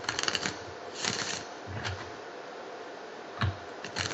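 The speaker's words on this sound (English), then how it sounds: "he loves the shuffling sound too" Tarot or oracle cards being shuffled in a quiet room, giving soft riffling bursts and light flutters that come and go in several short clusters, with no talking.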